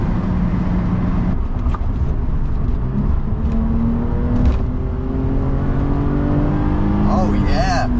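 A BMW 635CSi with a Euro M30 engine, fuel delivery issues being sorted, drones steadily through a test drive as the inline-six pulls and shifts through gears inside the cabin, with brief talk over it.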